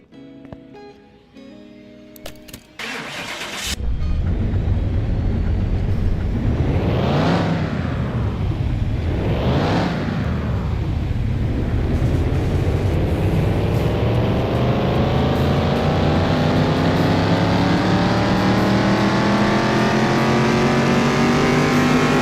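A simulated car with a standard OHV engine, in Car Mechanic Simulator 2021, is run on a dyno: after brief clicks it roars up through two quick rev sweeps, then climbs in one long, steady, loud pull with no talk.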